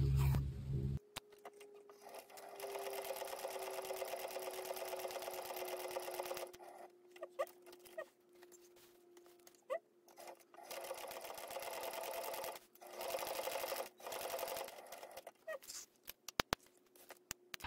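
A sewing machine stitches the trimmed pieces of a laptop bag in several long whirring runs separated by pauses, with a couple of brief clicks near the end, close and quiet in an otherwise silent room.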